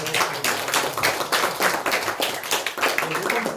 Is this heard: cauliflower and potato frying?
no